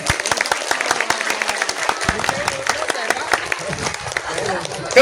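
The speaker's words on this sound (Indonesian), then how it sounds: "Tepuk tangan dong." Applause at an elementary school farewell ceremony for sixth-grade students in Jakarta, a crowd clapping steadily with sharp individual claps standing out and voices mixed in throughout.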